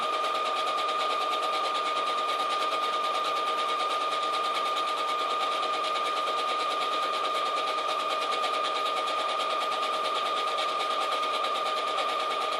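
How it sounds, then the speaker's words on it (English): A sewing machine stitches a dress in a continuous, even mechanical whir with a rapid needle rhythm, close and steady for the whole stretch, with no talking. "we are going to just start sewing it down"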